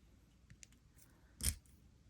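One crisp snip of wire cutters through thin 24 gauge jewelry wire for beaded earrings, a single close click standing out against quiet room tone.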